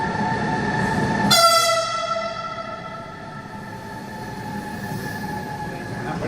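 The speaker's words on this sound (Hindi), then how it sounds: "तो भाई ये है रेलवे पटरी, यहाँ पे जो है हमारी आने वाली है बुलेट ट्रेन।" A high-speed bullet train pulls in at a railway station platform, loud and close, with a sudden rise of shrill metallic wheel squeal that holds steady over a continuous rumble of rolling cars, no voices present.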